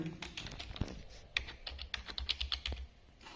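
Quick bursts of keystrokes on a computer keyboard while a signing key code is entered, close and crisp, with a brief pause between runs of clicks and no one talking.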